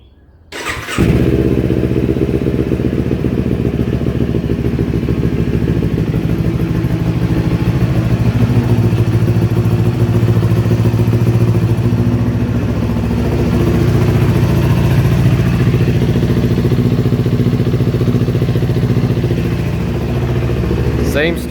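A 2018 Kawasaki Ninja 400 starts after an oil and filter change, then idles steadily and loudly with a smooth, even engine rumble that runs unbroken through the whole stretch, close up.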